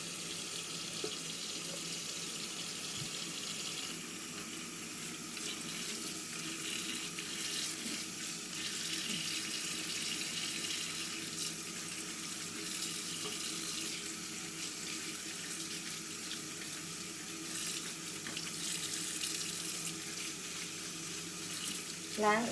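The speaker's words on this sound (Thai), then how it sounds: "เปิดน้ำใส่ไว้ก่อน ดี๋ยวเราจะทำการล้างนะคะ" Tap water runs steadily into a sink, filling it to wash freshly picked wild garlic from Sweden, a continuous close hiss and splash that holds level throughout with no talking.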